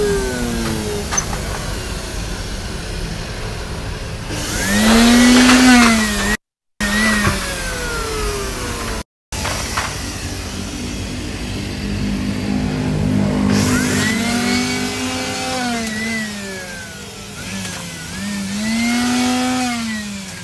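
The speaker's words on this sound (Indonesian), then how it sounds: "setelah tadi mesinnya di blower" An air blower cleaning the mechanism of an Epson L15160 printer gives a loud, steady whoosh that surges and rises in pitch in several passes, with two brief cuts to silence.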